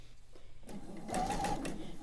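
Sewing machine running a quarter-inch seam on quilt pieces, starting after a near-quiet moment and building into a close, steady rapid whirr with rhythmic needle clatter.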